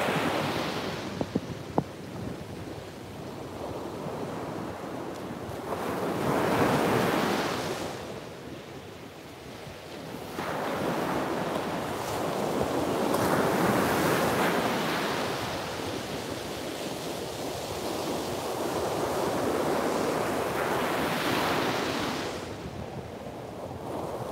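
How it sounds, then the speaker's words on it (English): Ocean waves break on a shore at sunrise, slow surges of washing surf swelling and receding every few seconds with a faint wind hiss under them and no voices. "look out at our amazing view with this unbelievable soundtrack of nature with these waves this morning"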